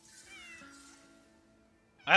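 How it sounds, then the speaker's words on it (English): A cat in a video game lets out one short, sharp meow at the very end, after a quiet stretch with a faint tone and soft background sound. "I found a chunky cat."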